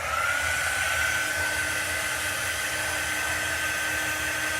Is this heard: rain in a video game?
no